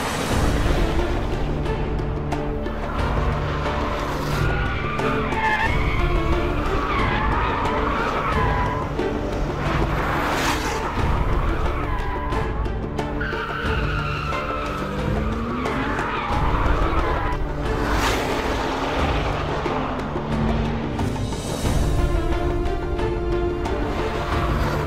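Porsche 911 GT2 RS driven hard on the Silverstone circuit, loud continuous engine roar rising and falling through gear changes, with tire squeal and skidding through corners, close and constant throughout.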